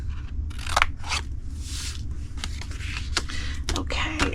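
Scissors snipping through cardstock for a Halloween treat box, several quick crisp cuts in an irregular rhythm close to the mic, with no talking.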